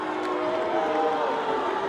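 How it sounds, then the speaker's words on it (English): Crowd at a girls' high school basketball game, Winslow versus Alchesay, reacting to a referee's call against the Falcons: a steady, dense roar of voices that holds loud and even for the whole short stretch. "the crowd does not like the call, as it goes against the Falcons"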